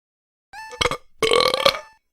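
A loud, close, drawn-out human belch in two parts, a short guttural croak and then a longer rasping, throaty burst.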